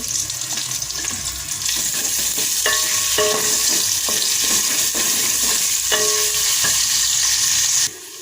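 Cardamom, cinnamon, cloves, bay leaf and onion with salt frying in a hot pot, a steady loud sizzle with intermittent scraping stirs throughout, no talking.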